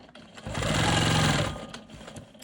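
A Quilt Maker Pro 20 longarm sewing machine stitches simple ruler-work quilting, a close, steady mechanical whir with a rapid needle rhythm that rises, holds for about a second and winds down, with no talk over it.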